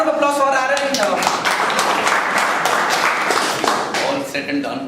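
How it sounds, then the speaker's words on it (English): Audience applause and clapping for Aaron Watson fill the room steadily and loudly, with a voice briefly heard over the start before the clapping takes over. "A round of applause for Aaron"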